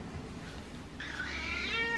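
A hungry cat meows for food, one drawn-out, rising call arriving about halfway through, faint and close, over a quiet room murmur.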